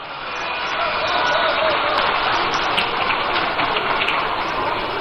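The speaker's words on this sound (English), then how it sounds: "A round of applause for him." A large crowd at a political party's manifesto launch rally applauds for a former Speaker of Parliament, producing a continuous dense roar of clapping that holds steady and loud throughout.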